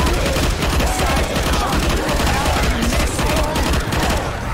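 Dense, continuous gunfire from Left 4 Dead 2 with modded weapons, a loud sustained rattle of rapid shots throughout with no breaks.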